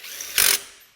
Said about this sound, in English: I'm gonna grab the torque wrench